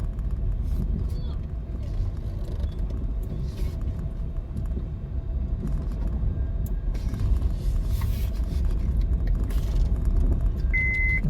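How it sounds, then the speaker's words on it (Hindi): A car is being parked in a crowded lot near Tinchha Waterfall outside Indore. A steady, close engine and road rumble continues throughout, with faint beeps and murmuring voices. "चलो गाड़ी लगाते हैं इधर।"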